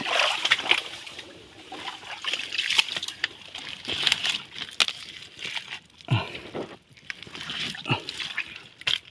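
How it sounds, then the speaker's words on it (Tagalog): Water suddenly gushing and splashing, with bursts of sloshing and spattering that rise and fall over several seconds; no speech. "biglang bumulosok yung tubig"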